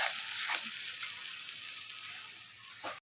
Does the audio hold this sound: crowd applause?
no